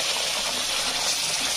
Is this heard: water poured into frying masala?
yes